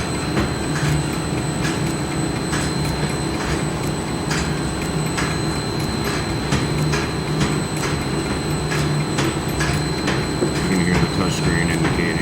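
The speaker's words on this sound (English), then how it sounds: "Now we've got bottles in the machine" A pharmaceutical-grade bottle filling machine hums continuously with bottles inside, with sharp mechanical clicks and clacks repeating at irregular intervals over the steady drone.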